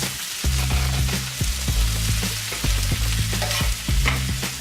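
Coarsely chopped onions fry in a pan for mole enchiladas, a loud steady sizzle with a regular series of spatula scrapes and knocks repeating about every half second.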